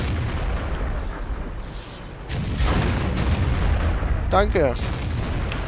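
A 150 mm tank cannon in World of Tanks fires with a heavy boom partway through, over a rumbling battlefield background, while someone speaks briefly in German.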